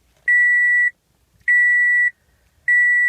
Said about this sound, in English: I'll wait for the beeps to finish